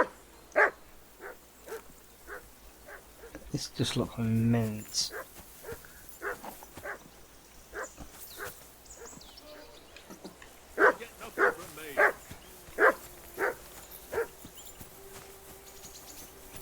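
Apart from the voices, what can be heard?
dog barking in Kingdom Come Deliverance 2 video game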